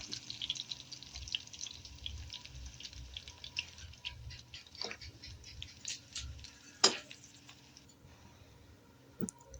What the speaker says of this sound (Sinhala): ඊළඟට මම ලුණු ටිකක් ඒ විදිහටම හීනියට කපලා ඒකත් බැද ගන්නවා.